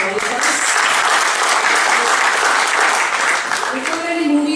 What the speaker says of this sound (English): So big round of applause for all of us.